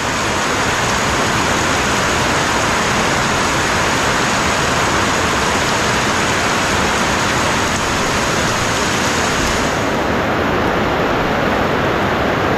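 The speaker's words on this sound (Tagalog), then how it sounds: "Pambihirang ulan." A continuous downpour hisses and drums steadily on surfaces, loud and unbroken throughout, with no one speaking.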